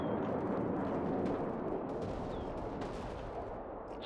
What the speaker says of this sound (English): Load. Aim. Fire.